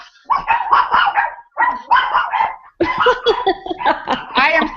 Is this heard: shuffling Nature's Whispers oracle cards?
no